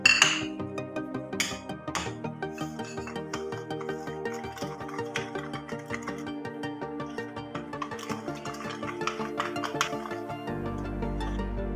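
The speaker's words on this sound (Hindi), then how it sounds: "दही के अंदर मिक्स कर देना है।" A spoon stirs dried ground coriander, salt and other spices into yogurt in a bowl for an egg masala curry, making steady, rhythmic clinks against the bowl that continue throughout. No one speaks.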